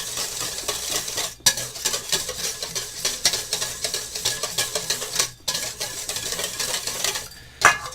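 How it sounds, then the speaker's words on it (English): Steady rapid clinking of a whisk against a bowl as a mustard mixture is beaten together, continuous busy scraping and tapping with a couple of brief pauses, close and fairly loud. "So we're using a bowl, we're using a whisk"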